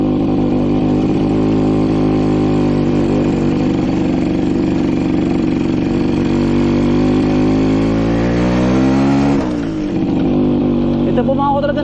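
An old motorcycle engine, a repaired bike, runs steadily outdoors on a farm with a loud continuous drone, revving slightly near the end.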